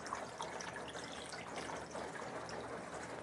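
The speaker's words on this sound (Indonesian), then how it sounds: "kemudian dikasih air" Water poured into a bowl of washed chicken feet and ice cubes to soak them, a steady continuous splashing fill, faint and close, with no voices.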